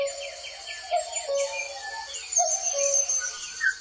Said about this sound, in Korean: 쉬엄쉬엄 뻐꾸기가 슬프게 울었다